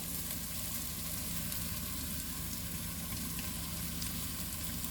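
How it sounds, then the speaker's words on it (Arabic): Washed rice tipped into a sizzling fried vegetable mixture, giving a dense, steady hiss of frying that holds evenly throughout, close by with no voices. "واول ما احس ان الخضار دبل معايا خالص كده هنزل بالرز المغسول"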